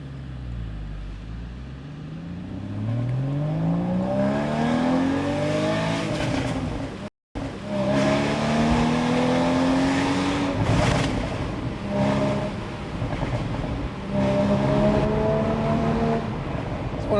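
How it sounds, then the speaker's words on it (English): A Porsche Spyder in sport mode accelerates through the gears while driving, its engine revs rising and falling with exhaust crackles, loud and close, with a brief dropout midway. "Sport button on, because I like the sound of the exhaust and the crackles."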